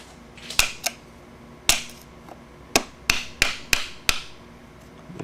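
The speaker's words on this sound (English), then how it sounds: "this is where you need an extra screwdriver so you can actually tap it back through" A screwdriver tapped on a radiator fan motor part of a 2006-2011 Ford Crown Victoria, about nine sharp metallic knocks at irregular intervals, close and fairly loud with quiet gaps.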